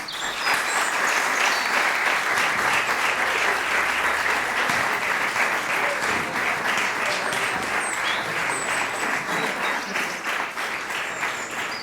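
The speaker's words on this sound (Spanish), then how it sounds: "Un fuerte aplauso para las alumnas de creación literaria." Audience at a literary creation showcase in Granada applauding the student writers, a long, full round of many hands clapping that stays strong and even throughout before fading slightly near the end.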